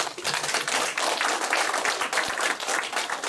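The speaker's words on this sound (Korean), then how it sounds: "동서고금의 30분의 성인들과 우리들을 만나게 해주신 주윤 이종원 선생님께 다시 한번 감사의 박수를" An audience in a lecture hall gives a sustained round of applause, dense, steady clapping that stays loud and even throughout with no speech over it.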